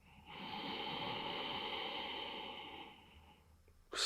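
A single long, deep inhale during a guided breathing exercise, close and breathy, drawn steadily for about three seconds before fading, with no talking over it.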